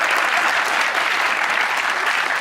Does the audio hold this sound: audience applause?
yes